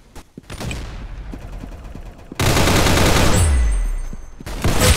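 Rapid automatic gunfire from the Roblox game Arsenal rattles in loud bursts, first a crackling volley, then a denser continuous stream with a heavy low thump, followed by another burst at the end.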